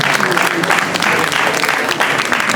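Applause from a book fair audience fills the whole stretch, a dense, even patter of many hands at close range with a voice faintly mixed in.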